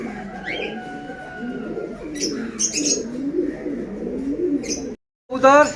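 Pakistani Kamagar pigeons coo in a low steady murmur with sharper chirps breaking through, all close by; someone talks over the birds and there is a short silent gap near the end.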